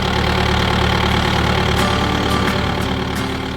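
A seven-year-old machine's engine idles loud and close beside the alternator, a steady droning rumble with a constant mechanical hum and no pauses.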